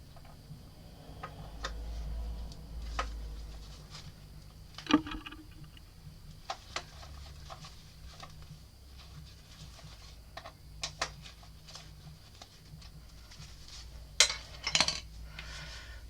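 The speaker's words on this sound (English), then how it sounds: "we're going to loosen these pinch bolts" A wrench works the pinch bolts on a motorcycle front wheel, with sparse metallic clicks and taps spread across a quiet stretch and a sharper clink near the end.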